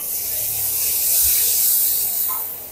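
Green chili paste hitting hot oil in a kadhai with ginger and garlic, a loud, close, continuous hiss that swells and holds for a few seconds, alone without speech.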